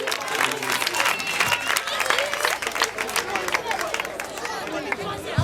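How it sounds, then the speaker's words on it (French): Audience applause for children at a school ceremony: dense, continuous clapping from a crowd, mixed with cheering and chatter, holding steady throughout. "Veuillez acclamer."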